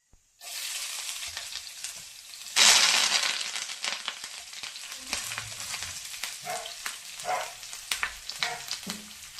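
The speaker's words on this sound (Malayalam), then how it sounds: "നമുക്ക് കുറച്ച് വെളിച്ചെണ്ണയൊക്കെ ഒഴിച്ച് കടുക് താളിച്ചതിന് ശേഷം ആ വെണ്ടയ്ക്കയും അതുപോലെ തന്നെ തക്കാളിയും ഇട്ട് വഴറ്റി നമുക്കെടുക്കാം" Okra and tomato hit hot coconut oil tempered with mustard seeds, bursting into a loud sizzle after a quiet start, then a crackling fry with spatula scrapes and knocks against the pan, close and unvoiced.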